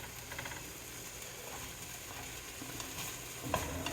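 Waffle House style breakfast food fries quietly in a pan, giving a steady soft sizzle with scattered light crackles and a small clatter near the end.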